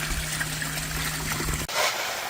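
Water trickling and splashing steadily out of a pool with a solar cover, a continuous close wash of flowing liquid that cuts off abruptly near the end before a brief softer splash.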